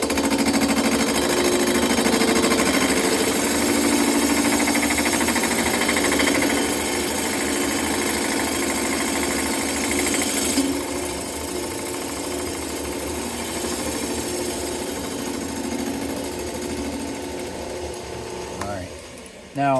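A machine tool cuts the base of an engine cylinder, producing a loud steady grinding and rattling drone that drops slightly in level midway and runs without talk.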